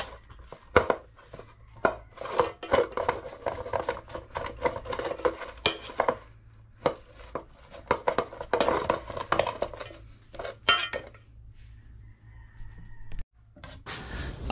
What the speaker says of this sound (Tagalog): I-scramble natin yung kanin.